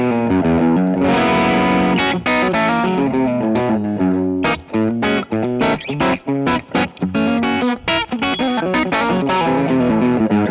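An electric guitar plays through a BOSS GT-1000 multi-effects unit on a Diamond Amp crunch patch, with middle gain and no clean boost in front. Distorted chords ring out loud and sustained, then give way to choppier strummed hits, with no voice.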